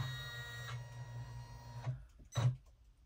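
An embroidery machine stitches a jelly vinyl pouch, giving a steady motorized whir with a tonal hum that stops partway, followed by a couple of short mechanical clunks close by.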